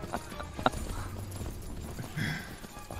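Horse hoofbeats from riding in the open-world survival crafting game Myth of Empires, a quick rhythmic clip-clop running steadily throughout at moderate loudness.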